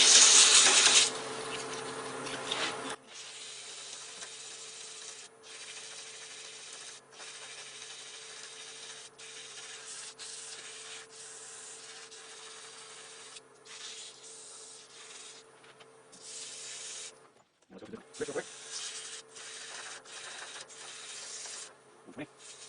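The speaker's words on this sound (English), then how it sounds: "we're going to go ahead and sand that shaft" Steady, soft rasping of sandpaper against a wooden shaft spinning on a lathe, turned for a baby rattle with captive rings, continuing at an even pace with brief pauses and occasional clicks.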